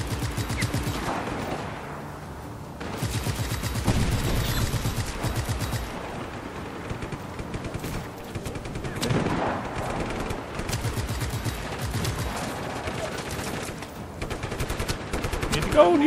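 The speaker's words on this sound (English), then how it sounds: "There's people shooting at me and stuff." Enemy gunfire in the video game Just Cause 3, rapid bursts of automatic shooting with scattered single shots, continuous and moderately loud throughout.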